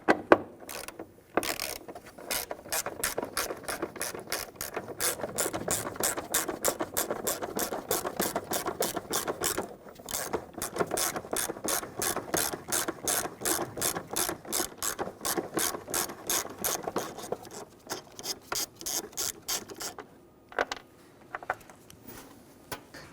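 A ratchet wrench loosens a 10mm bolt on the 4.7L V8 engine of a 1999-2004 Jeep Grand Cherokee during valve cover gasket work, clicking in long rapid runs between short pauses, close up and without speech.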